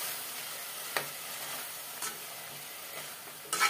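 Masala fries in a pan while being mixed, making a faint continuous sizzle with a few sharp scraping strokes of the spoon spaced a second or so apart, alone without speech.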